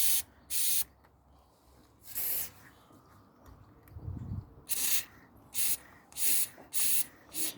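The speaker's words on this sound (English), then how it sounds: "we're just putting a little bit of silicone WD down them." Silicone spray lubricant from an aerosol can misted down bonnet release cables on a Rover 75, about nine short sharp hissing bursts of varying length with quiet pauses between, close up.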